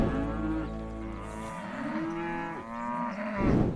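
A cow on a farm gives a long, loud, close moo that rises and falls in pitch and fills the whole stretch without a break, with no voices over it.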